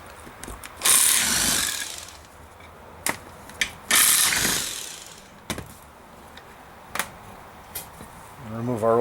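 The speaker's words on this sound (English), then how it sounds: "We're just going to use our electric impact here to remove these 15mm" Electric impact wrench spinning off 15mm transmission-mount bolts on a Dodge Ram 2500 with a 5.9 Cummins turbo diesel, with two long rattling bursts followed by several short hits, close and loud.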